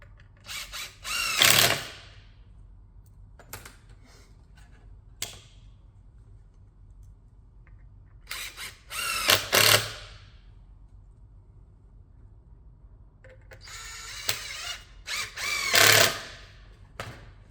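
A power drill drives 30mm screws into pre-drilled holes on Milwaukee Packout racking, with four short whirring bursts spaced apart, close and clear, separated by quiet handling clicks.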